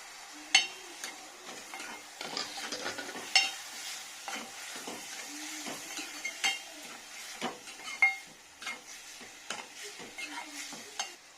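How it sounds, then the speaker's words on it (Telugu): Potatoes being stirred in a pan with salt and turmeric for a chickpea and potato curry, with onion paste and sliced onions, giving repeated scraping strokes over a faint steady sizzle, close and moderately loud, no talk. "దీంట్లోనే కొంచెం ఉప్పు, కొద్దిగా పసుపు వేసుకొని బాగా కలిపేసుకొని"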